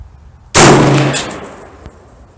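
A single sharp report from a 6.5 Creedmoor AR-10 rifle firing Federal Non-Typical ammunition at the range: one loud, sudden blast that rings and fades over about a second and a half, with no voices.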